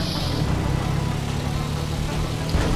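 Car engine in the video game GTA V Online, a steady, fairly loud low-pitched rumble holding constant throughout with no talk.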